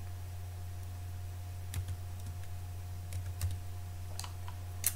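Typing on a computer keyboard to enter a library card number and PIN at a login screen, with a few scattered bursts of soft key clicks over a steady low hum and no talking.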